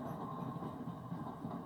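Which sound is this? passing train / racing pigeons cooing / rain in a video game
passing train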